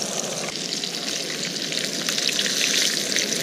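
Brined catfish pieces fry in hot oil outdoors on a cold day, giving a steady, close sizzle and crackle that holds level for a few seconds with no talking.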